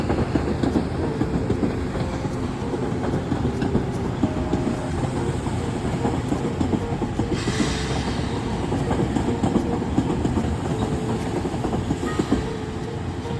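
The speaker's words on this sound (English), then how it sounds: "that train that came in right after this one" A Harlem Line electric multiple-unit passenger train rumbles past a platform with a constant loud roar and rattling wheels, clattering steadily for the whole stretch without voices.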